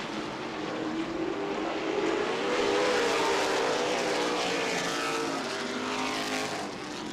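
Late model sportsman race cars under green flag at Anderson Speedway, engines roaring in a broad, rising and falling drone as the pack sweeps past, fairly distant and continuous, with no talking.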